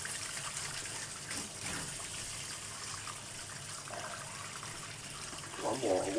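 Hot water runs from a tap in a steady, moderately loud gush, with a brief louder splash near the end; nobody speaks over it.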